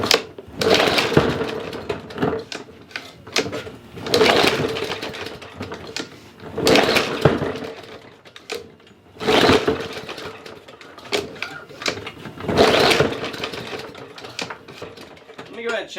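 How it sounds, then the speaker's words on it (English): A small engine is cranked over and over after carburetor repair and priming with the bulb, coming in four or five loud, rattling mechanical bursts with short pauses between them, and a person speaks in the gaps. "give it a few primer bumps with that bulb, and then try to see if we can get it firing over"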